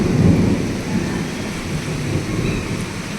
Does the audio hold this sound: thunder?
yes